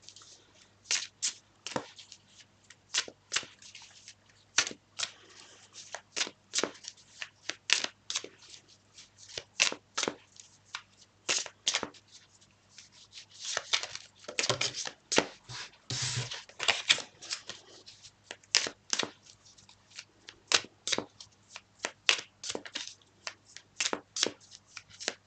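Tarot cards are shuffled by hand in a quiet room, a long series of close, crisp riffling and flicking bursts in an irregular rhythm with short gaps between.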